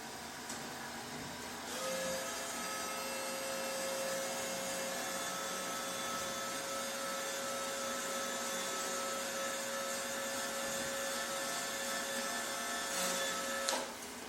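A Bossweld MST 185 MIG welder feeding gasless wire out through the torch, a steady whirring motor drone with a constant tone that starts abruptly, holds for about eleven seconds, then stops.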